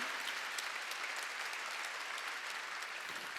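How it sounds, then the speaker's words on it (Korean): A church congregation applauding during an Easter Sunday service, a steady wash of many hands clapping that sounds distant and fairly faint throughout. "바로 박수로 하나님께 영광"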